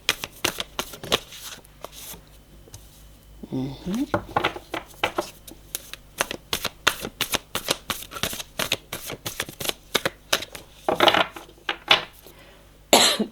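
Tarot cards being shuffled and drawn: a run of crisp, rapid riffling bursts and soft card slaps, close and fairly loud, with brief pauses between bouts and a few quiet words spoken now and then.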